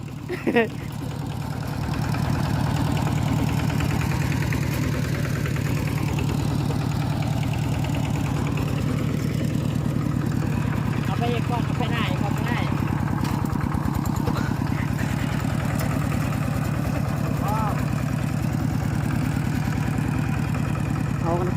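A vehicle engine idles steadily before pulling away, a loud continuous low rumble filling the scene from about two seconds on, with faint voices and occasional light knocks over it.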